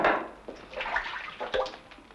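Hot water is sloshed and rinsed around inside a wooden rotary barrel butter churn, splashing and gurgling in uneven bursts close by, with no talk.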